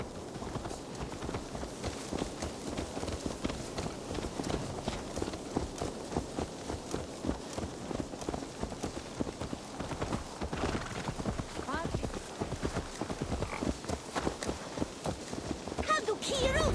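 Rapid, continuous clip-clop of horse hooves trotting in Assassin's Creed Valhalla, steady and busy throughout, with a faint whinny and light ambient noise.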